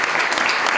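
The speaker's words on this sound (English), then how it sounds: "reward that with another suitably indulgent round of applause" Steady, dense applause from a crowd at an awards ceremony, loud and continuous throughout with no pauses.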